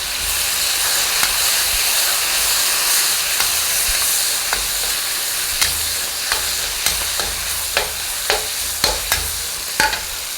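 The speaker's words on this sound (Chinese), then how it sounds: "好，小火炒一炒。" Ginger slices, garlic and dry-pot sauce sizzle in a wok over low heat, a steady close hiss of frying punctuated by regular spatula scrapes and taps that grow more frequent toward the end.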